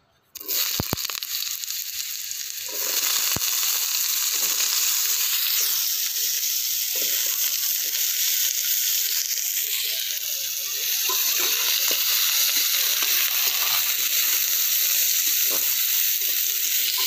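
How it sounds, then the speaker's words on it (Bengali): Potatoes hit hot mustard oil in a wok. After a quiet start, a loud, continuous sizzle takes over with a few spatters and small shifts, and there is no talking. "আমার তেল গরম হয়ে গেছে, এবার আলুগুলো ভেজে নেব।"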